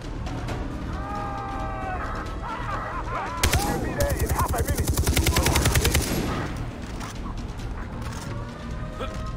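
Rapid automatic gunfire in the shooter game Far Cry 3, a dense burst of shots lasting a few seconds amid game ambience, with mechanical clicks before and after.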